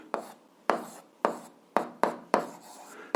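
Chalk or pen strokes on a board during an algebra lesson, six short scraping taps in an uneven rhythm, each with a quick attack and fading tail, close and clear against a quiet room.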